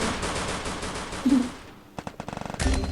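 Gunfire in the Free Fire video game: a dense, sustained burst of automatic fire, a brief pause, then a rapid string of sharp shots followed by another heavy burst, all loud and close.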